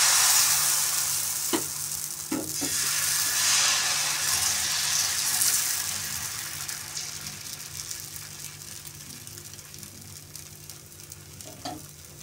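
Jowar dosa batter poured onto a hot pan sizzles in a loud, continuous hiss that slowly fades, with a few sharp clicks from the utensil.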